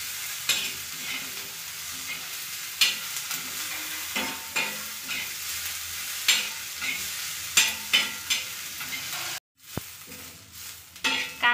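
Ginger, onion and garlic fry in a pan with a steady sizzle as a spatula repeatedly knocks and scrapes against the metal. A brief silent cut breaks the sound near the end.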